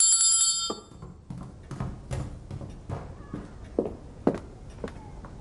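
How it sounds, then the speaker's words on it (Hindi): A small bell rings brightly at the start, then fades into quiet footsteps and light shuffling nearby. "हमें बस ये घंटी बजानी है, ऐसे।"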